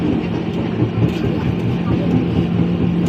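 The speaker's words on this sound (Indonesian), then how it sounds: "Jalur 6 ada kereta komuter lain tuh" A commuter train running on track 6 at Manggarai station in Jakarta, heard as a continuous low rumble and rolling wheel noise close by, steady throughout.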